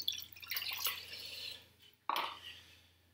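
Rum pours into a vanilla sugar syrup, making soft, close liquid splashing and trickling in two short bursts, with a brief pause between them.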